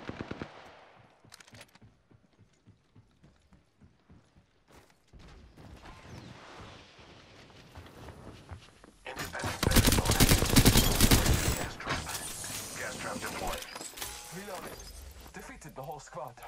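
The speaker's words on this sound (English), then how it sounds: "I'm taking fire" Bursts of rapid automatic gunfire and crashing impacts from a squad-based shooter video game, sparse and close at first, then swelling into a loud, dense fusillade before easing off, with speech heard over it.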